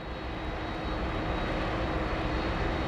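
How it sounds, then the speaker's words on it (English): Air Force One carrying the body of President Gerald Ford taxis on the ground, a steady, loud jet engine roar holding even throughout with no voices. "the Air Force One plane bearing the body of Gerald Ford taxiing"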